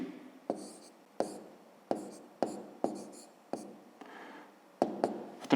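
Pen or pencil strokes write answers by hand on paper, in short distinct scratches with sharp taps at the start of each stroke, about a dozen in quick irregular succession, faint and close, with no talk.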